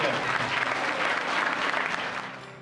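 Junior college teachers applauding, steady crowded clapping that continues evenly and then fades out toward the end.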